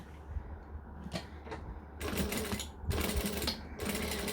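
A sewing machine stitches a fabric pouch in short bursts: a light motor whir, then two longer runs of rapid stitching, close and fairly quiet.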